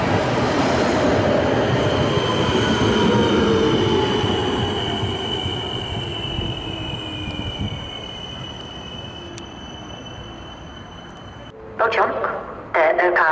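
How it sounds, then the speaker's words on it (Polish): A TLK passenger train rolls into Skierniewice station with a loud rumble and a high, drawn-out wheel squeal that slowly fades. A station announcement voice speaks near the end. "Pociąg TLK Zosia ze stacji Warszawa Wschodnia do stacji Łódź Fabryczna przez stację Koluszki Łódź Widzew wjedzie na tor pierwszy"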